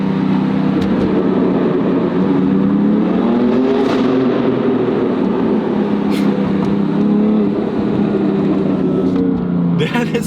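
A turbocharged BMW M3 Competition accelerates through a tunnel, its loud engine note rising and falling in pitch through the gears and echoing continuously for about ten seconds.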